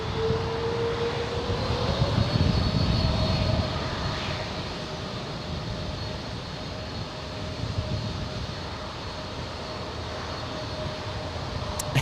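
A Hawaiian airliner powered by Rolls-Royce Trent 700 engines takes off at an airport, its broad engine roar heard from a distance with a rising whine, loudest early and then settling into a steady rumble.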